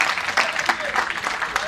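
Audience applause at a stage comedy show, a burst of many hands clapping with uneven sharp peaks, moderately close and heard briefly on its own.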